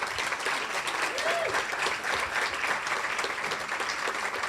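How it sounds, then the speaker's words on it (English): An audience at a young professionals awards ceremony gives sustained, even applause, a thick continuous patter of many hands with a voice briefly audible underneath. "So please give yourselves a round of applause."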